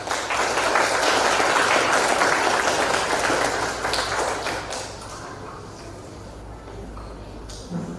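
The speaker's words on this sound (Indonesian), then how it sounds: "Ya, bisa berikan aplaus ya." A wedding crowd at a vow ceremony claps steadily and loudly for several seconds, then the applause thins and fades to a quieter murmur with a few scattered taps.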